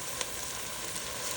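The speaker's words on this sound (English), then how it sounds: "You can hear the olive oil and the butter doing its job." Tomato paste sizzles steadily in a pan of olive oil and butter, a close, continuous frying hiss with small crackles and pops throughout.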